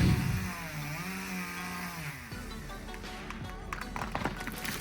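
A chainsaw runs continuously nearby during tree felling in the rain, its pitch rising and falling as it revs, with crackling and snapping bursts later on.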